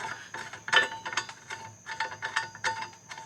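Screws are turned into the trunk of a 1959 vintage aluminum Christmas tree, producing a quiet series of irregular metallic clicks and ratcheting scrapes, close and faint, with no talk.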